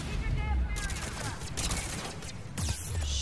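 Turrets in Mass Effect 3 fire rapid bursts of gunfire in loud, dense volleys that start and stop sharply, with a voice speaking over the shooting.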